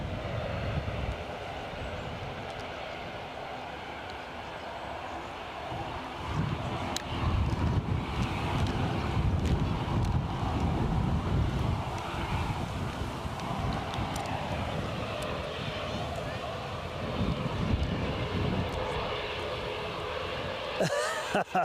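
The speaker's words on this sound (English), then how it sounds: "I do love a bit of prop sound in the background." An ATR turboprop at Edinburgh Airport on a windy day produces a steady, broad propeller and engine drone that swells gradually, heard at a moderate distance under wind noise with occasional talk over it.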